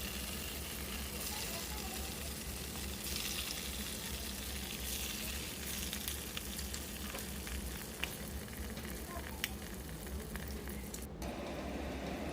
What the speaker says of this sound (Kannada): ಎಣ್ಣೆ ಕಾದೈತಿ ಇವಾಗ ಚಿಕ್ಕ ಚಿಕ್ಕನು ಸಣ್ಣ ಸಣ್ಣ ಬಜ್ಜಿಯನ್ನು ಹಿಟ್ಟನ್ನು ಹಾಕೊಳಕತ್ತೀನಿ